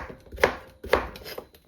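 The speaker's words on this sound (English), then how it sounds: "Very, very quickly chopping my zucchini." A knife chops zucchini quickly on a cutting board, with three or four sharp, close, crisp chops spaced about half a second apart.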